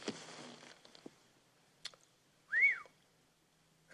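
A short rising-then-falling whistle made while breathing in, faint and alone in a quiet room, preceded by a few soft rustles and clicks.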